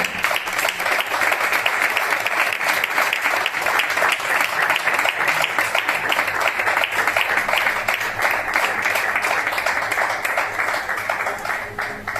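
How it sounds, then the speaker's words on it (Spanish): A church congregation claps loudly and continuously, a thick steady roar of many hands that fills the space for over twelve seconds and eases slightly toward the end. "Hágale fuerte las palmas al Señor en este día, iglesia."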